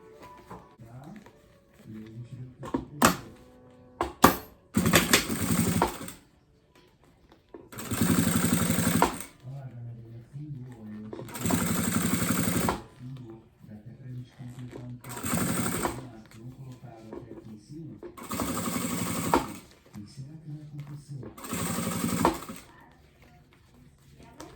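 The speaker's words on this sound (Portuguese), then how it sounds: "vou passar uma costurinha aqui, bem na pontinha, para dar o acabamento" A sewing machine stitches along the edge of a fabric heart-shaped bag in several loud, close bursts of rapid whirring, separated by pauses where someone speaks.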